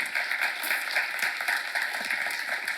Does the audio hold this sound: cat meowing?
no